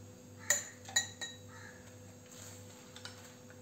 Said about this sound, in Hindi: उसके बाद मैं इसमें लीची जो हमने मडल की हुई थी वो डालेंगे।